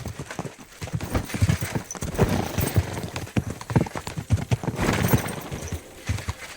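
Rapid clip-clop of horse hooves galloping in a horse race in the video game Kingdom Come: Deliverance II, rhythmic thuds rising and falling with a brief whinny, fairly close and busy throughout.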